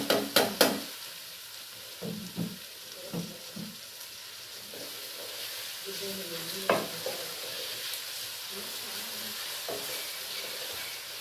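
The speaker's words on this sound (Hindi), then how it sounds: "प्याज अच्छे से फ्राई कर देती हूँ, साथ ही मिर्ची मटर और हरी मिर्च भी ऐड कर देती हूँ।" Onions, peas and green chillies sizzle steadily in a pan while a utensil stirs and scrapes. Several sharp clanks come at the start, then scattered knocks sound over the continuous frying hiss.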